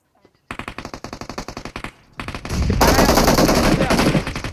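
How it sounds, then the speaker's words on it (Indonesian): Rapid automatic gunfire from the mobile battle royale game PUBG Mobile, a steady rattling burst of close, loud shots that breaks briefly and then turns into a dense, sustained roar of overlapping fire. "Gue ditembak dari jendela ya"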